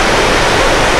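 The Gargalheiras reservoir spillway pours a large, fast volume of water, a loud, dense, unbroken roar filling the whole clip with no other sound.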